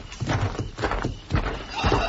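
Horses move about outdoors in an Old West setting, hooves clip-clopping in uneven clusters of thuds, fairly close and loud, with a short neigh mixed in.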